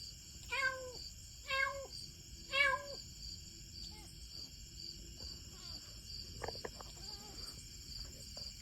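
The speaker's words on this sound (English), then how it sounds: "He's been meowing for this entire time." Three clear meows from a small stray cat, close and distinct at a steady pace, then quieter faint movements over a constant hum of crickets or insects in the background.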